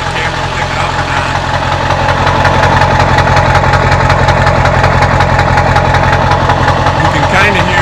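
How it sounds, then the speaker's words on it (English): Ford OBS truck idling with an aftermarket downpipe, a faint turbo whistle riding over the steady, loud, rumbling exhaust drone that runs unbroken throughout. "You can kind of hear the turbo whistle out of the exhaust at idle."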